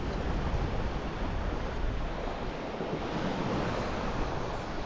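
Sea waves crash in a continuous, loud roar while wind buffets the microphone, with no voices and no pauses.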